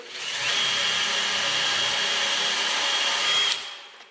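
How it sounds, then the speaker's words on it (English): A power drill fitted with a bristle pad spins up at about 2,000 RPM and runs steadily for a few seconds with a high whine and a scrubbing rush, then winds down. "hit her with the old bristle pad thing on the spinny drill"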